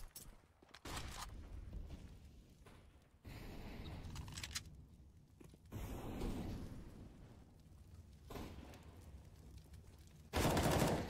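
Gunfire in a Counter-Strike match on the Dust2 map, bursts of rapid automatic shots and single reports at a moderate distance, coming in clusters separated by quieter stretches.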